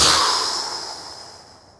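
A single long, forceful breath out through the mouth, airy and close, starting strong and fading gradually over about two seconds.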